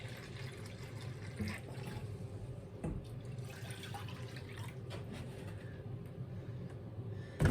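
Half a cup of water poured into a mix of apple cider vinegar for homemade mustard, making a steady, continuous liquid rush with no voices.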